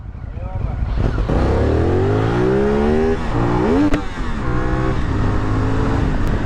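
A motorcycle engine revs hard on a street, its pitch climbing and dropping through repeated rising sweeps, loud and close for the whole stretch with no words spoken.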